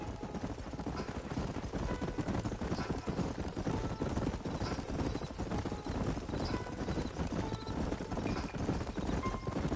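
Several horses clip-clop at a steady riding pace in a video game, a dense, continuous patter of hooves with a faint engine-like drone beneath, no voices.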